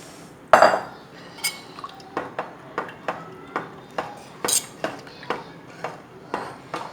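A ladle stirs jaggery payasam in a metal pot. It makes a steady series of light clinks and scrapes against the pot, about two or three per second, close and fairly quiet.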